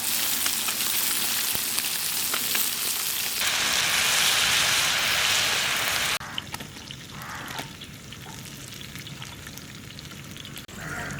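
Red pomfret river fish fries crisp on a tawa while heavy rain falls outside, a loud steady sizzle that drops to a quieter crackle partway through, with no talking.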